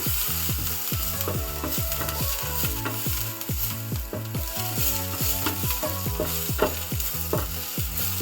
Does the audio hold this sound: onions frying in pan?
yes